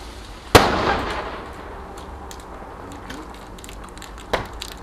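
Fireworks rockets launching and bursting on Bonfire Night: one sharp, loud bang near the start with a crackling decay, a few faint pops, then another smaller burst near the end against quiet outdoor background.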